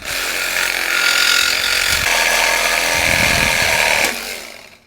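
A power tool grinds loudly and steadily through the metal frame of a Razor MX650 electric dirt bike, near and continuous for about four seconds before it winds down and stops.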